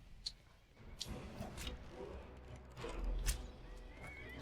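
A horse in the Skyrim video game whinnies and neighs under attack from a dragon, with clip-clop hoof sounds and game ambience; several cries of moderate loudness rise over a busy background.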